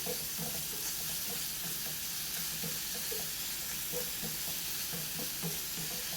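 Onions sizzling in a pan with ginger garlic paste, a constant soft hiss and crackle with light rhythmic stirring scrapes, close and fairly quiet, with no voices.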